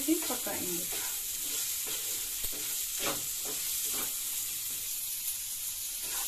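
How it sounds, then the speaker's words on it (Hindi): Black chickpeas being stirred and cooked in a pan give a steady close sizzle with scraping spoon strokes and soft clinks throughout, no talking. "अभी इसमें हम चने डालेंगे और इनको हम मिक्स करके अच्छे से 2-3 मिनट के लिए ढक्के से पकाएंगे"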